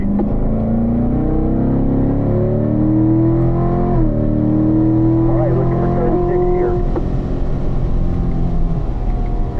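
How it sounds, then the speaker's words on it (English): A Corvette engine accelerates at full throttle on a race track at a performance driving school, loud and close, its tone climbing in steady rising harmonics with a brief gear-change dip, under an instructor's voice. "Squeeze the throttle, Take it all the way up."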